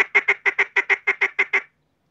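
Domestic ducks at a pen give a rapid, evenly spaced run of about ten loud nasal quacks, close and clear, then stop abruptly into silence.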